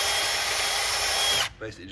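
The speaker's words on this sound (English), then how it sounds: "I've got this little attachment for my drill here, which I run over the S-cams" A power drill fitted with a small cleaning attachment whirs loudly and steadily against truck brake S-cams on a DAF XG, then stops abruptly, leaving a brief quiet clatter.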